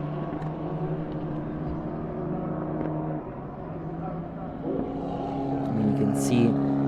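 Formula 4 race cars run on a wet track at the Most circuit in the Czech Republic, their engines droning as a steady tonal whine beneath continuous commentary, rising slightly as they near.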